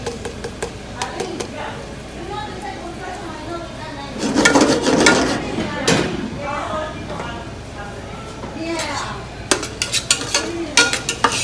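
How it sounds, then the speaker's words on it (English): Small-diced medium onion sizzling in oil while being stirred, a soft frying hiss with scraping and clinking of a utensil against the pan, close by, under steady talking. "We just want to kind of get some onions going. Again, you're going to start with about a medium onion. Sort of small diced."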